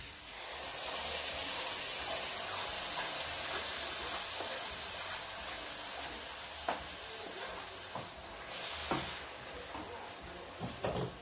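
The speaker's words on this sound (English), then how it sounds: "Just fry the onions a little bit" Onions frying in a pan for a chicken gizzard dish, a steady close hiss of sizzling oil throughout with a few light utensil clicks and knocks near the end.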